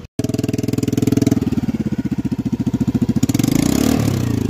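A Honda Activa 6G scooter fitted with a new silencer idles and then revs, giving a close, steady putter that builds louder toward the end.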